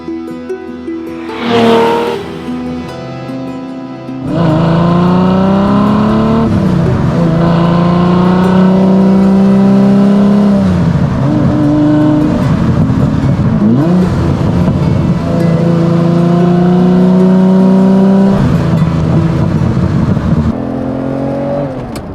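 A very purple 2001 Lamborghini Diablo 6.0 supercar, loud and close, its engine droning steadily while driving, with the pitch rising and falling as it revs through gears and a short burst of noise near the start.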